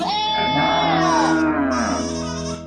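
A young goat kid lets out a long, wavering bleat that rises and falls, close and loud, over a faint background hum.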